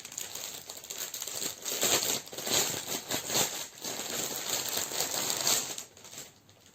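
A toolkit holding five needles is unwrapped at a slight distance, producing continuous crinkling and rustling of packaging with small clicking taps throughout, moderately loud and with no talking.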